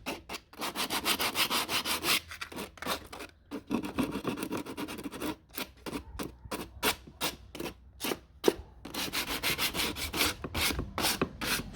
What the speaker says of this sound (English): I'm just gonna use sandpaper 80 grit. Sand here, sand the edges.